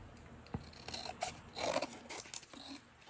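Scissors cut through book cover board for an altered-book journal cover, giving a few crisp snips and scraping crunches that rise and fall over about three seconds, close and fairly quiet with no talking.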